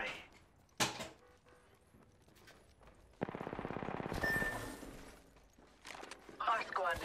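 Bursts of automatic gunfire and single shots in the Apex Legends battle royale shooter, with sharp cracks early, a sustained rattling volley in the middle and more scattered shots near the end, mixed with game effects.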